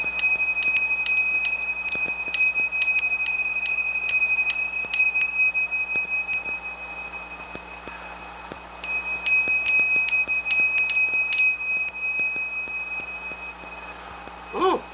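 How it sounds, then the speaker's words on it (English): A small bell rung in two bursts of rapid bright dings, each run of about eight strikes, close and clear over a quiet room hum. "let's ring the bell on that"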